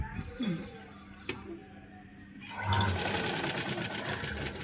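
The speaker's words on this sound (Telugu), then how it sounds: "పాదం డిస్టెన్స్ అంటే 1/2 ఇంచ్ పట్టుకొని స్టిచ్ చేసుకోండి" A sewing machine stitches the back piece of a blouse, running steadily and close for the latter half after a quieter stretch with handling noises, with soft talking underneath.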